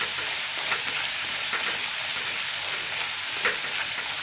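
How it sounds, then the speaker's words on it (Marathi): Green chilies fry in hot oil with salt, a steady close sizzle with soft crackling and occasional stirring scrapes, continuous and unbroken with no voices. "आपल्याला 1-2 मिनटं मिरची तेलामध्ये छान अशी परतून घ्यायची आहे."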